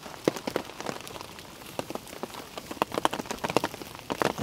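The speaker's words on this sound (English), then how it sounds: "It's super rainy and damp" Rain patters onto leaves and the forest floor deep in Aokigahara Forest in Japan, a steady wet ticking with scattered louder drops close by, no voices present.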